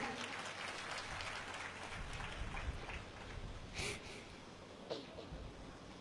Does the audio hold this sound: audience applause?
yes